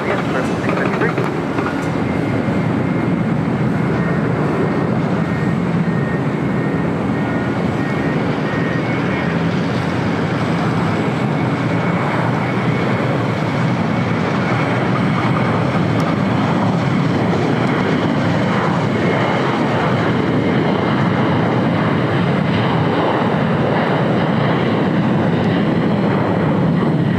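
Airliner jet engines at LAX runway 25 right hold a constant loud, wide rushing roar with a faint steady whine, while radio voices talk over it.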